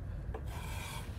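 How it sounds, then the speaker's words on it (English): A plastering trowel is dragged up a plasterboard joint, spreading joint compound with a brief, close, faint scraping rasp and no voices. "at an angle of about 45 degrees, you actually drag the trowel up, forcing the material either side"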